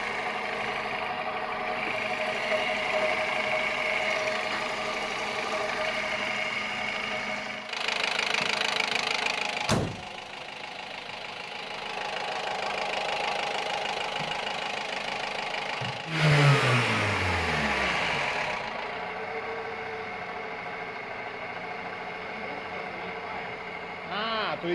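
A Toyota RAV4 engine idles with a steady knocking rattle, rising briefly when revved, heard up close and continuous throughout.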